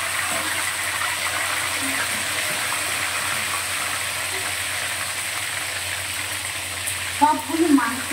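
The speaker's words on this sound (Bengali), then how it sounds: "এখানে আমি মাংস ভাজতে দিয়েছি" Chicken pieces frying in a pan make a steady, even sizzle throughout. Near the end a brief voice cuts in over it.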